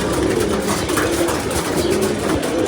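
Pigeons cooing in a low, steady murmur, close by, with a constant background hum and no talking.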